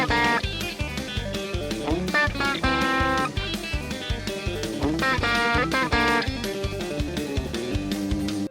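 Electric guitar playing harmonized sixths from the intro of a song over a full country band with drums and bass, a dense, steady groove of quick melodic lines throughout.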